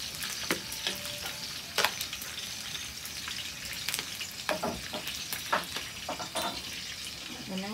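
Frog pieces fry in a pan with a steady close sizzle, broken by sharp clanks and scrapes as a utensil stirs against the metal.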